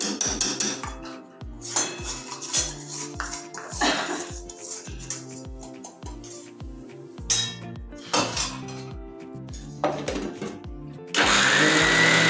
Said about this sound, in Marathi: हे रवा जरा बारीक करून घेते.